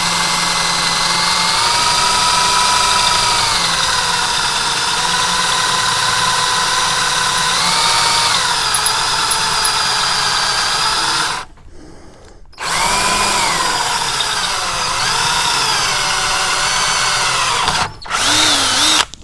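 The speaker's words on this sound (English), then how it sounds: "So I'll finish drilling those." A loud power drill runs in long sustained bursts while drilling holes for a soft wash system build, pitch wavering under load, with two brief stops before starting up again.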